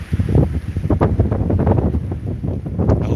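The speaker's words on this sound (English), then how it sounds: "I don't have a windscreen or anything on this phone, and it is windy as hell out here" Strong wind buffeting an unshielded phone microphone outdoors on a sidewalk in Cassadaga, Florida, loud gusty rumbles and thumps that rise and fall continuously with no pauses.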